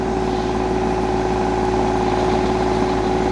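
A tractor engine runs steadily while driving a post hole digger auger, a loud, constant mid-pitched drone with an even mechanical hum throughout.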